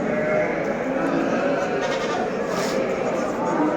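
Lambs bleat close by at a livestock market, amid a steady, noisy crowd murmur, their calls blending into the busy background.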